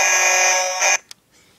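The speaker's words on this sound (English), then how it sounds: "This sounds a lot like a fire alarm" A toy 2000 Hess fire truck's harsh, buzzing electronic horn blares steadily for about a second, then stops abruptly, leaving a faint click and quiet.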